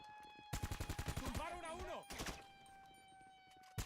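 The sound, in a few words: gunfire in a video game shootout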